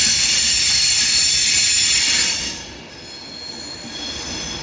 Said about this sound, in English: arriving in now is another Avanti West Coast Class 390 Pendolino